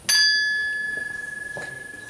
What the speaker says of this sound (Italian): Maria Elisa, a dare il tocco di campana per l'inizio della serata.